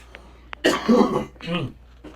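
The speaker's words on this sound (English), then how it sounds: "I'm sorry, I'm gonna be coughing." A few harsh, close coughs in quick succession, the first sharp and the later ones rougher, with a short breath between.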